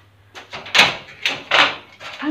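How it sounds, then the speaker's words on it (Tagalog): Several loud, close knocks and bangs from a door slamming in the wind, arriving in irregular bursts with a faint low hum underneath and no voices. "Ang pinto pala lumalagapak."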